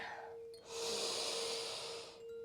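A single long, breathy exhale during a hatha yoga flow, close and steady for about a second and a half, with a faint sustained tone humming in the background.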